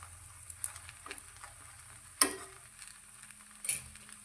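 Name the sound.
cabbage Manchurian paratha sizzling in a pan with a drop of oil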